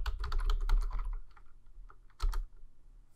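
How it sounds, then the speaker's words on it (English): A computer keyboard clatters with a quick flurry of keystrokes, then a pause and another short cluster of taps, close and clear with no talking. "Oops, I typed that wrong."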